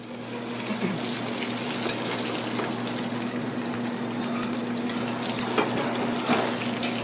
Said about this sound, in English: The shrimp are browned in very hot olive oil